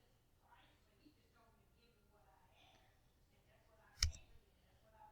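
A single sharp computer mouse click sounds near the end, close and crisp, after soft, quiet talking.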